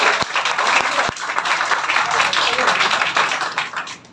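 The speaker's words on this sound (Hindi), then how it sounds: "स्वाति के लिए जोरदार ताली।" Applause for a student at a toppers' award ceremony, a sustained burst of many hands clapping with a few sharp nearby claps, filling the room loudly and evenly.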